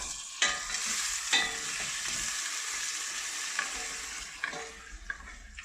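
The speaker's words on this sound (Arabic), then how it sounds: "من بعد غادي نزيدو طريفات ديال القرعه" Frozen pumpkin pieces drop into a hot pot for pumpkin soup, setting off a steady close sizzle with a few sharp clacks of stirring.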